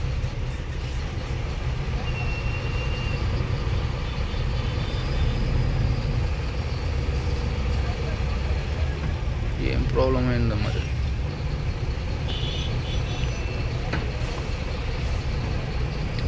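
Steady low rumble of heavy traffic stuck in a jam around a truck on a highway near a hospital, with idling engines throughout and someone talking over it.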